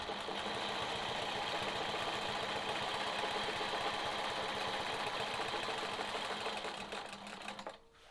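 A sewing machine quilts a sawtooth star block, stitching steadily along a ruler line in a fast even whir with a rhythmic needle chatter, close and continuous, stopping at the end.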